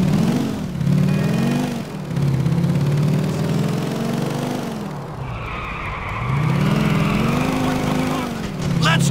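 A motorcycle engine revs in GTA IV: The Lost and Damned during a biker gang war, loud and close, its pitch rising and falling in repeated surges with a tire-skid screech in the middle.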